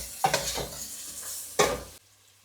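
Spices being stirred into khichdi frying in a pan, with a close, brief scraping and sizzling stir that stops abruptly, then a short quiet gap.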